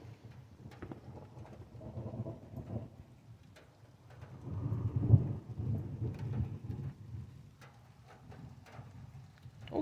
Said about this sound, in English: Just as soon as I cut the camera off, it started raining.